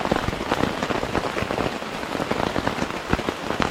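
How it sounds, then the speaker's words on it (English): Steady patter of rain drumming on a tent at Hertlein Campsite on the Appalachian Trail, dense and close, with scattered louder drops hitting the fabric throughout. "Should have brought my food in before it started raining."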